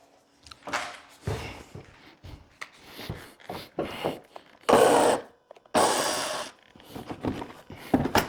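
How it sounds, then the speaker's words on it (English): Wooden shims are tapped and pushed in under a stair newel post on a curved staircase, producing a run of short knocks and scraping rubs, with two longer, louder grinding bursts in the middle, close by. "so I got to send these shims in even"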